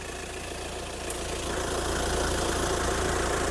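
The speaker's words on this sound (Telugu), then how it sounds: "ఇంజిన్ చాలా స్మూత్గా రన్నింగ్ ఉంది." A Hyundai Creta SX diesel automatic engine idles smoothly and continuously up close, a steady mid-low rumble that grows slightly louder partway through, with no voices.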